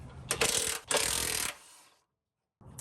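Impact gun loosening transmission bolts on an FJ Cruiser with a deep 14mm impact socket, heard as two loud, rattling bursts close to the microphone, then a quieter tail and a moment of silence.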